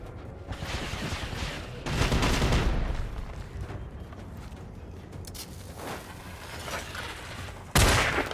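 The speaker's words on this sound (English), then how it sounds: "Guess I should get some fireworks out." Fireworks bursting in the video game Generation Zero, a series of loud crackling booms and pops arriving in bursts over continuous game noise, with a strong blast near the end.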